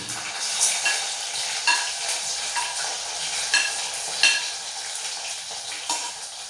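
Garlic sliced lengthwise sizzles in hot oil with mustard seeds and fenugreek for a Kerala-style raw mango pickle, a continuous bright hiss broken by the scrape and clink of a spoon stirring the pan, with no talking.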